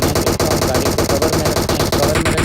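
Rapid automatic gunfire in the mobile battle-royale game PUBG Mobile, played on an iPhone 11: a loud, continuous burst of closely spaced shots in a fast, even rhythm, heard alone without talk.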